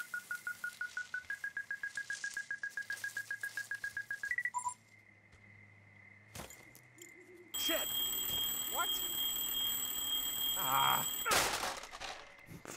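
An alarm box in the video game Firewatch beeps in a rapid, rising series of electronic pulses, loud and repetitive, then cuts off and gives way to quieter game ambience and clatter, with someone talking.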